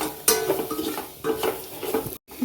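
Spice powders are stirred into frying masala for a chicken stew, with a spoon scraping and clinking in the pan over a steady sizzle and a brief pause near the end.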